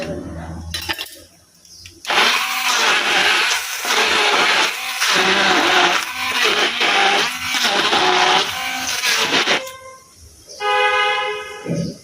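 A hand blender whirs loudly in pulsing bursts for about eight seconds, coarsely grinding a spice paste in a home kitchen, its pitch rising and falling as it works, then stops before a brief restart.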